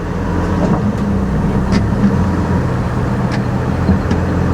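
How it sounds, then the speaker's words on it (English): A 2013 Ford F truck idling and creeping forward in drive at an auction lot, a steady low engine rumble with a constant drone and faint clicks, close and unbroken with no talk. "let's go ahead and throw it into drive"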